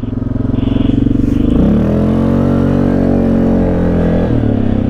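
ATV engine revving hard through mud, a loud, close, steady throaty rumble that dips and picks back up as the machine churns along, running continuously without talk.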